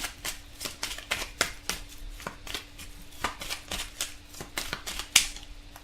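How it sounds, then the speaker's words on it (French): Tarot cards being shuffled and drawn by hand, a quick series of crisp riffling flicks and soft slaps in uneven rhythm, close and clear over a faint low hum, with no speech. "Donc on va tirer 4 cartes pour voir ce qui ressort sur d'autres plans"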